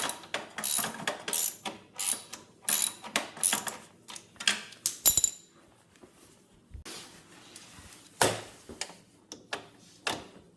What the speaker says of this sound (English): Start off by removing this front bolt.